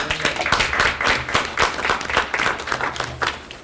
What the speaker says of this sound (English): we want to give him an applause at this time